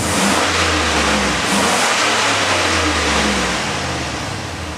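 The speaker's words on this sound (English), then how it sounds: "We're going to give it a couple revs," A 2002 Chevy Silverado K2500 truck's 6.0-liter LQ4 V8 engine, at 244,000 miles, revs loudly, rumbling low and rising as the throttle is blipped, then settling back down close up.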